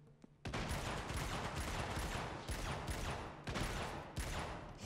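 Sustained automatic gunfire rattles in the video game Uncharted: Golden Abyss on PlayStation Vita, a dense, loud volley after a brief quiet start, with several sharper shots punctuating the stream.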